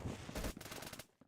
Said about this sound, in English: Oh, wall bang, baby.